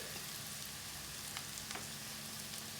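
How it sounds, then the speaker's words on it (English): Ginger and garlic paste frying in a hot pan, a steady, even sizzle with faint crackles and a couple of brief spits, heard close and alone with no talking. "to cook the ginger and garlic paste through properly so it starts to fry"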